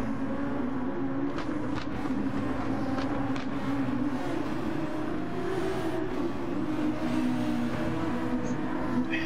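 Honda Super Formula race car engine in Gran Turismo Sport, a steady droning engine note held without a break throughout, fairly loud and even, with no talk over it.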